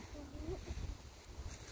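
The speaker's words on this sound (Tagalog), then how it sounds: "Ayan, may hangin." Steady, low rumbling wind noise buffeting outdoors, with a brief faint voice near the start.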